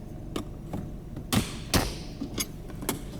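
Shifter trim on a 2011-2018 Dodge Charger pried up with a flat pry tool, giving a few close, sharp plastic snaps and taps, two louder pops in the middle, with no talking.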